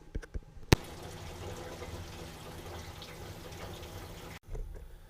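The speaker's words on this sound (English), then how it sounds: "So we just put about 5 gallons of gas in the tank" Gasoline poured into the fuel tank of a 1979 Camaro, a steady liquid splashing and gurgling for about four seconds, close by, with a couple of knocks at the start and a bump at the end.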